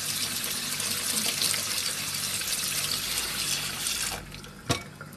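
Cold tap water runs steadily over shredded orange peel in a colander in a home kitchen, a close, continuous hiss that cuts off near the end, followed by a single clink.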